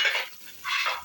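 Onions frying in a pan are stirred in two distinct scraping strokes separated by a short pause, close and fairly bright over a quiet sizzle, with no voices.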